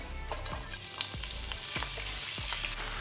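Chopped onions fry in a little oil in a pan, a steady dense sizzle running throughout with a few soft stirring scrapes and clicks spaced across the moment, close and moderately loud with no voices.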